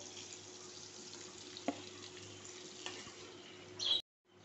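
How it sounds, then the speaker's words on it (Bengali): Paneer frying in oil gives a soft, steady sizzle with a faint hum beneath it. A couple of light clicks and a brief louder rustle near the end come just before the sound cuts off. "পনিরটাকে এখন ভেজে নেব আমি, দেখুন লাল লাল করে হালকা।"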